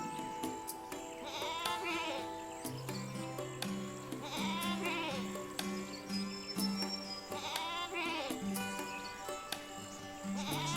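Several goats bleat in long, wavering calls, close and fairly loud, one after another over a held musical tone.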